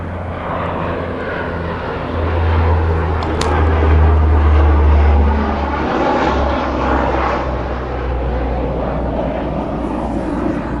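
A loud, low engine drone from an airplane passing overhead, swelling in the middle and then easing off, steady and continuous throughout.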